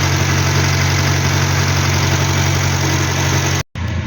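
A Hillman Superminx engine fitted with a new electronic ignition idles steadily with a low, even hum, close and alone, until it cuts out abruptly near the end and then briefly resumes.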